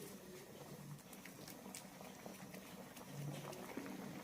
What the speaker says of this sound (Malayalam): തിളച്ചിട്ടുണ്ട്